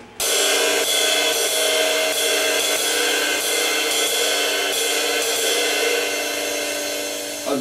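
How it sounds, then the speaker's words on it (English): A jazz ride cymbal beat in triplets played with sticks: a dense, bright, continuous shimmer of cymbal wash with steady taps, close and loud, no talking. "jazz cymbal beat, which sounds like this with sticks."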